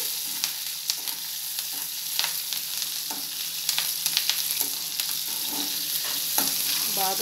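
Red chillies, garlic and curry leaves fry in hot oil for dal, a constant close crackling sizzle broken by frequent light stirring knocks in the pan.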